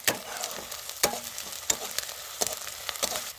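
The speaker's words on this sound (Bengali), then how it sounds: "আদা রসুন বাটাটা দিয়ে আমি আগে ভালোভাবে ভেজে নেবো" Ginger garlic paste sizzles and fries in a pan for mutter paneer, with steady crackling and several sharp scraping strokes of a stirring spoon, heard close and alone.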